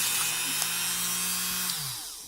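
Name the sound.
power tool polishing metal security pins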